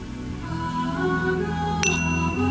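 A chime struck once by a child during a kids' yoga session, a single bright metallic ring that sustains and fades, heard over a soft continuous background tone.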